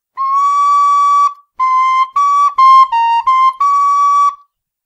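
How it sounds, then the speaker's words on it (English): A John Sindt tin whistle plays a sequence of clear, loud, close notes: a long held tone and then a run of shorter steps shifting in pitch, with no talk. "it sounds pretty much as strong as the other notes on the whistle"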